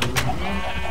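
Sheep in a video game bleat loudly and up close, one clear wavering call filling the short moment.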